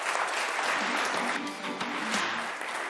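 Sustained applause fills the room for the Minigolf Club Tigullio at a local sports gathering, a dense steady patter of many hands clapping close by.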